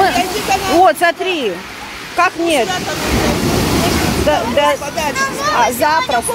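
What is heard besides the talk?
Black Sea waves surging at the beach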